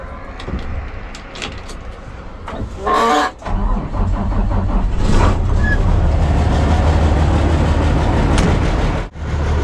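An International DT-530 truck engine starts in winter cold: a few clicks and a brief cranking burst, then the engine catches and settles into a loud, steady diesel idle with a short dip near the end.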